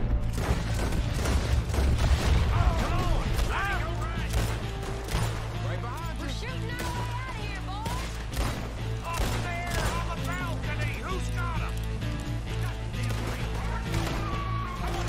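Gunshots crack through a Red Dead Redemption 2 game scene, a string of sharp reports fired to shoot a hat off, mixed with game music and a voice talking over it.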